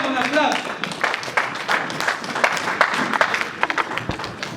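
A church congregation applauds and cheers during a French-language sermon on thanksgiving, with dense clapping and raised voices filling the space, steady and loud throughout with scattered shouts.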